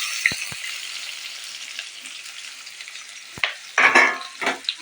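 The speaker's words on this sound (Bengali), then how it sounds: "আমি তেলের ভিতর দিয়ে দেবো কুচানো পেঁয়াজ" Chopped onions tipped into hot oil with whole cumin, a loud close crackling sizzle that flares up as they hit the pan, with a few spoon taps and stirring scrapes.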